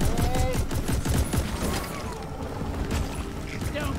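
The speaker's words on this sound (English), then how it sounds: "My turret can actually hit them." Rapid gunfire from an engineer's auto turret in the video game Deep Rock Galactic, a Haz 5 salvage mission, clattering as a dense fusillade mixed with other combat noise, with voices talking over it.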